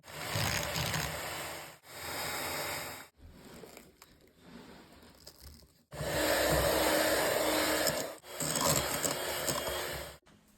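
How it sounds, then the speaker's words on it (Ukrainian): Six egg yolks being beaten in a bowl, likely by an electric mixer, for a sponge cake: loud steady whirring bursts that stop and start, with a quieter gap in the middle, no talking. "Виливаємо до миски 6 жовтків і окремо збиваємо приблизно півхвилинки."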